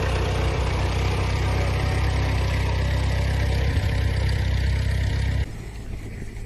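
A 1918 Ford tractor engine runs steadily at idle, a constant low chugging drone close by that drops to a quieter rumble near the end, with no talking.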